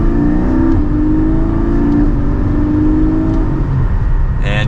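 Porsche 718 Spyder pulling hard from second gear with a manual shifter, loud engine note climbing steadily in pitch under full throttle, close and continuous, with a brief shift-like break near the end.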